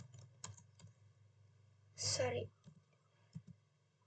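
Keys click on a computer keyboard as a router command is typed, a few scattered taps then a short burst of fast typing, with a faint voice in the background.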